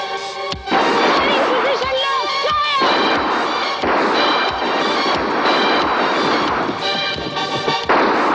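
Gunfire in a shootout from a 1989 Hindi TV serial, dense rapid bangs repeating throughout, loud and close, overlapping shouted speech and a dramatic soundtrack.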